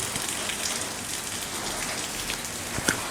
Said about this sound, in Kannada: ನೋಡ್ಬೋದು ಈ ಸೈಡ್ ಫುಲ್ ಮಳೆ ಬರ್ತಾ ಉಂಟು